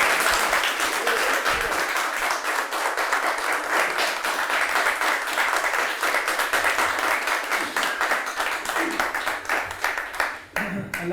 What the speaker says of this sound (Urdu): یہ جو تالیاں بجائیں گے اس میں مجھے لگ رہا ہے کنجوسی